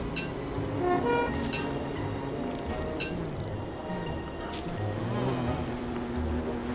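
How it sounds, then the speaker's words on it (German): A bee from the game Don't Starve buzzes with a steady, close drone that lasts the whole stretch, alongside faint game clinks and chimes. "Die Biene tut mir doch hoffentlich nichts"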